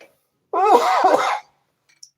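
A single sharp sneeze-like burst from one person, close and fairly loud, followed by quiet and a faint small click.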